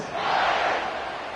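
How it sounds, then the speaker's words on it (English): A stadium crowd buzzes in a football video game, a steady, broad roar that swells slightly and then holds at a constant level throughout, with no clear voices standing out. "this crowd is buzzing after that last score"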